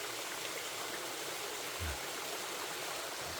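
Steady rushing of flowing water from a waterfall and stream in Vang Vieng, Laos, continuous and broadband with no voices, and a brief low thump partway through.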